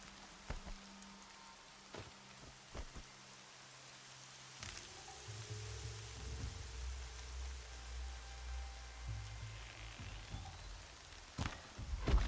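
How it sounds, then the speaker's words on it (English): Rain falls steadily in the video game Horizon Zero Dawn, a soft continuous hiss with occasional sharper clicks and a low rumble swelling midway, no voices present. "Why does it rain every time I attack a village?"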